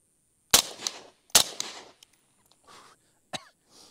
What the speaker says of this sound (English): Let me shoot 2 more.